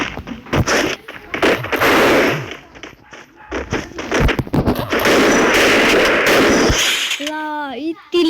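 Gunfire in a shooting video game, rapid bursts of loud shots and cracking volleys in quick succession, with a voice talking in between.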